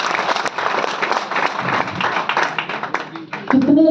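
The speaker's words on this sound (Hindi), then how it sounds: "मैं चाहता हूँ इसके लिए एक बार जोरदार तालियां।" Loud, dense applause from an audience at a wellness products presentation, sustained clapping throughout with a voice starting to speak at the end.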